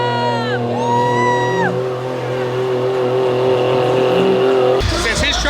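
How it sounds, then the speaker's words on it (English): Monster and mega trucks tearing around a dirt track at a Sanford, Florida truck event in 2021, engines roaring loudly and steadily with rising and falling pitch, tires squealing, and a burst of harsh noise near the end, crowd voices mixed in. "we got a bunch of badass trucks tearing it up right here"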